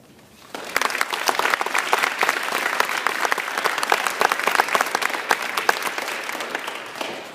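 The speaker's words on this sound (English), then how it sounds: "So why don't we give Officer Felton a round of applause?" Audience at a DARE graduation breaking into applause for Officer Felton, the clapping starting abruptly after a quiet moment and holding steady and lively from many hands.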